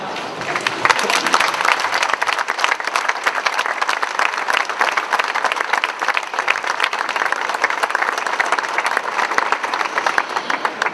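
Dense, sustained applause from a crowd at an outdoor protest rally for the future of El Bierzo, steady and loud for the whole stretch with no break or talk.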